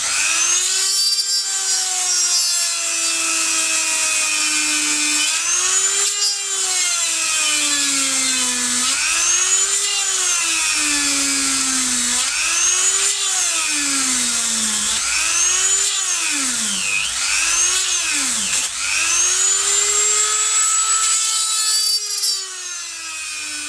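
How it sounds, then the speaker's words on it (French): A power drill bores holes in a car bumper, its motor whine rising and falling in pitch through repeated bursts, close and loud for about twenty-four seconds with no talk. "Voilà, donc tous les trous sont percés."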